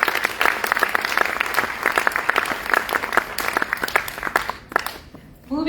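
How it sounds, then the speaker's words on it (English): Sustained audience applause after a Bharatanatyam arangetram dance performance, dense clapping from a full hall that continues for several seconds before tapering off near the end. "Please give them a round of applause,"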